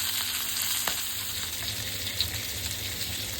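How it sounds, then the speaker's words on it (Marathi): Masala-coated fish pieces shallow-frying in a pan give a continuous, even sizzle with a faint steady hiss, broken only by a couple of soft utensil taps, with no one speaking. "सात ते आठ मिनटात आपली पीस फ्राय होते"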